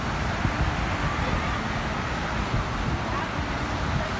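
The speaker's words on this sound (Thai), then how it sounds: "นี่คลื่นลมจริงๆ นะ วันนี้พายุเข้านะครับ" A seaside storm at Laem Mae Phim, with strong wind buffeting the microphone over a dense, constant roar of sea waves, loud and unbroken.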